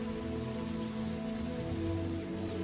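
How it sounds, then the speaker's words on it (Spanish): Steady rain falls on a surface, a dense continuous patter with a low rumbling undertone, moderately loud and unbroken, with no voices. "te voy a dejar con este mágico y poderoso sonido de la lluvia"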